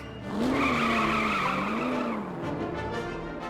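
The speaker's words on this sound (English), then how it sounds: "He's doing donuts for us." Tires squealing on pavement as a truck spins donuts, a sustained wavering screech that rises and falls over a steady engine roar, fairly close and with no talk.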